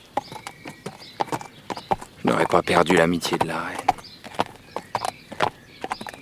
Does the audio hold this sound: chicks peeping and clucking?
no